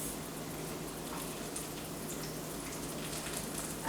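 Vegetables sauté in a pan with a steady, soft, even sizzle like light rain, continuous and uninterrupted, no voices.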